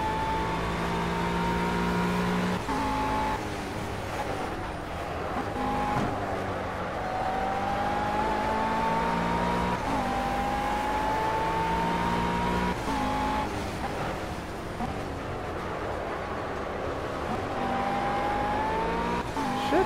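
GT3 race cars in the Project CARS racing game on a Spanish circuit, several engines droning and shifting pitch continuously and loudly throughout, with cars passing around the pits and no talking.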